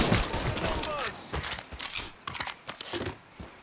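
Gun being reloaded in the video game Mafia 3, a run of metallic clicks, rattles and mechanical clacks over busy game noise, with a voice briefly audible.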